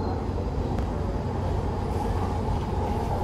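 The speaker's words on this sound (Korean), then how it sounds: "기차 지나간다, 기차." Passing a riverside rental spot, a train rumbles by at a distance as a steady, moderately faint roar of wheels on rails, with no clear voices over it.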